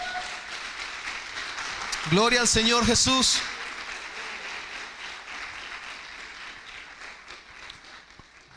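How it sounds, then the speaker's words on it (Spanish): Applause from a church congregation fills the room as a steady, broadband patter. A voice speaks loudly over it in the middle, and the clapping continues beneath afterward. "Le damos un fuerte aplauso"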